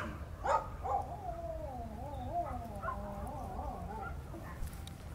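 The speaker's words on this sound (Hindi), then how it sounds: "ये जो एक आवाज नहीं आई थी इसके भौंकने की, और अब ये ऐसे रो रहा था" A dog howls and whines in long, wavering cries that rise and fall over a few seconds, with a sharper yelp near the start, set against a steady low background rumble.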